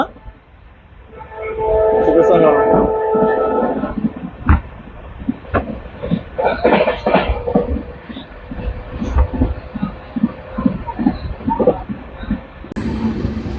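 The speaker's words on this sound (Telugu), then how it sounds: "ప్రస్తుతం మనం ట్రైన్ స్పీడ్ అయితే చూడండి 114కి అయితే వెళ్ళింది. Maximum కొట్టేస్తున్న train" A train crossing the new Pamban bridge on the Rameshwaram–Tambaram line runs at high speed, a loud rumbling roar with a sustained horn blast early on and rhythmic clatter of wheels, while someone speaks briefly.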